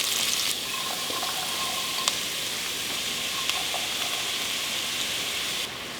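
Vegetables sautéing in a pan with a little olive oil and about a tablespoon of butter, heard as a steady close sizzle with a few faint clinks, and no talking.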